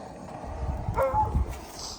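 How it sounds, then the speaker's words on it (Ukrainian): A dog gives a short yip and bark at moderate distance outdoors on a rabbit-keeping homestead, a brief burst over steady low background noise. "Не гавкай."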